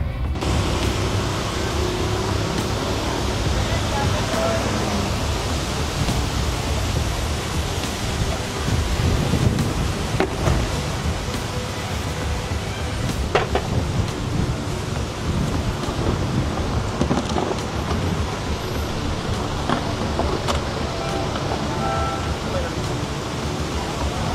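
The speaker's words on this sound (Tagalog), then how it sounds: "Lakas ng hangin, ah." Strong wind gusting outdoors on a city sidewalk by a roadside, a constant loud roar buffeting the microphone throughout, with faint street noise beneath.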